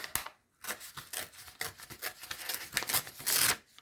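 A piece of paper is cut by hand in short bursts of snipping and crinkling, close and fairly quiet, with a brief pause near the start.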